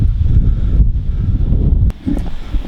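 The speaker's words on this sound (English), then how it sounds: "I don't even know if you can hear me, it's so windy." Strong wind on the summit of Detroit Mountain buffets the microphone in a steady low roar, with a brief dip near the end before gusting back up.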